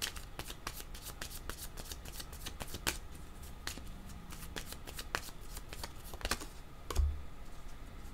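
A deck of cards being shuffled up close, a steady run of crisp riffling flicks with sharper snaps scattered through, heard alone without speech.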